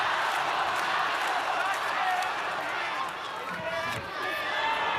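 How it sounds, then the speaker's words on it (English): Arena crowd at a ONE Championship fight cheering for a fighter, a steady dense roar under a commentator's continuous talk. "Crowd rallying again for Joshua Pacio."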